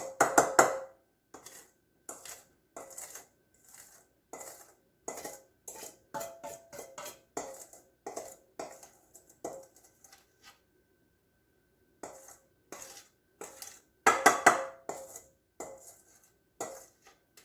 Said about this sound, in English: I like to scrape my bowls out good